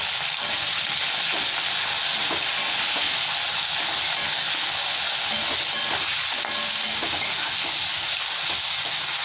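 Bitter gourd fries in a pan with a steady, dense sizzle and hiss throughout, broken by occasional small clicks and scrapes of stirring, with no voices present.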